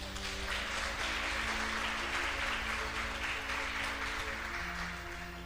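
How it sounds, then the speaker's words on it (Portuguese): Church congregation applauds Jesus during a sermon on prayer, sustained even clapping with a constant low hum of the hall beneath it, fairly distant and unbroken throughout. "Você pode aplaudir Jesus?"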